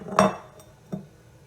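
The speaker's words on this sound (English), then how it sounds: "Make sure you scrape out everything from the bowl." A spatula scrapes and knocks against a mixing bowl while basbousa batter is cleared out, giving two short clinking scrapes, a louder one at the start and a fainter one later, close and with no talk.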